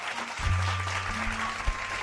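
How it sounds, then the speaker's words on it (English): A short round of applause rings out, a dense steady wash of clapping under a low hum, with a few thumps mixed in. "I want to give you a round of applause."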